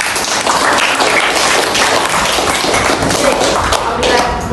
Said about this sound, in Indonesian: Tepuk tangan untuk semua kelompok.